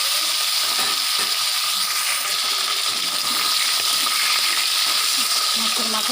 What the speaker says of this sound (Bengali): এবার মাছের মাথাগুলো ভেজে নিয়ে নেবো কচুর শাকের জন্য।